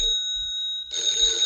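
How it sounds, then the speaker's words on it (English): A telephone bell starts ringing partway through, bright and steady with a sustained electronic trill, loud and close with no talk over it. "Oh, that's the phone."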